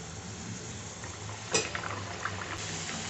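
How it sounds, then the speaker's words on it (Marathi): Chirote pastries fry in hot oil over a low flame with a faint, steady bubbling hiss. A single soft clink sounds partway through, and no one speaks. "आता याच्यात आपण चिरोटे टाकूयात"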